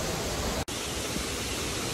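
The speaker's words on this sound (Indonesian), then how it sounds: "Jadi ini air terjun" Waterfall pouring below the Natural Bridge rock arch in Queensland, a loud continuous broadband roar of falling water with a brief dropout early on.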